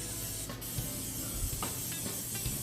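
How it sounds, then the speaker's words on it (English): Cooking spray is sprayed heavily onto a molten lava cake pan, giving a soft, close, continuous hiss with several short pulsed bursts. "Lots of spray."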